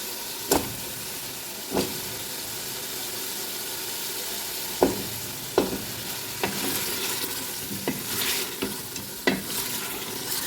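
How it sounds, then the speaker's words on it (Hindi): Three medium potatoes being roasted in spice masala for an aloo mutton curry hiss and sizzle in the pot, punctuated by occasional distinct scrapes and clanks of stirring. "अब कम से कम मैंने 5 से 7 मिनट भुनाई करनी है आलू की इस मसाले में।"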